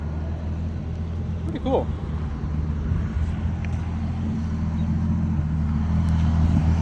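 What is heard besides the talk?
Pontiac Fiero turbo engine idling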